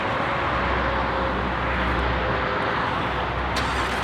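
Lamborghini Huracan Tecnica engine under hard acceleration, a loud, sustained roar and whine with a deep low-end drone, heard steadily from inside the car without talk.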